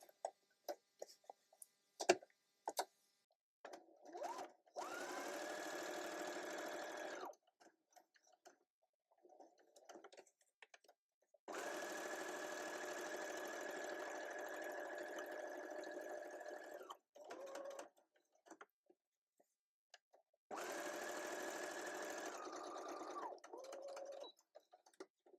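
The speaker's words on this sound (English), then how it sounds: "Thank you, Mr. Sewing Machine." A sewing machine stitches the edges and bottom of a folded envelope pocket in three long, steady runs with short pauses, clicks and handling noises between them.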